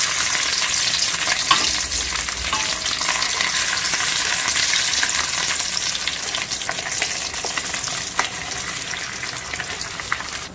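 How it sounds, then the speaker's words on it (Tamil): Salted boiled potatoes fry in hot oil for a pani puri filling, with a loud, continuous crackling sizzle and occasional scraping stirs against the pan, heard up close without speech. "இப்போ எண்ணெய் சூடாயிருச்சு, நான் இதுல இந்த கிழங்க சேர்த்துக்கிறேன்."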